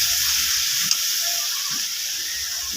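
Water splashed onto spice paste frying in oil gives a loud, steady hiss that fills the whole moment, with one brief tap early on and no voices.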